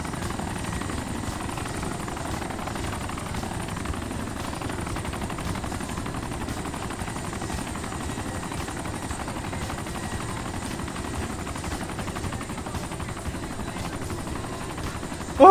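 Helicopter in the video game DayZ Origins, a steady rotor and engine drone that holds at an even level throughout, with no talk over it.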